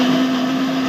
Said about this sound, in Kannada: ಹಾಗೆ ಸ್ವಲ್ಪ ನೀರು ಹಾಕಿ ಗ್ರೈಂಡ್ ಮಾಡಿದ್ವಿ.